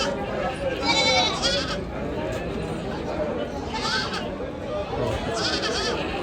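Goats and kids at a large livestock market bleat several times in short bursts over a busy background murmur, with someone talking throughout.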